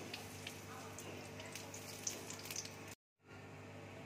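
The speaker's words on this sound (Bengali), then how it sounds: "এবার আমি কালো জিরে ফোড়ন দিচ্ছি।" Nigella seeds (black cumin) sizzle in hot oil in a wok, a faint, steady crackle that runs without talk and cuts off abruptly near the end before resuming.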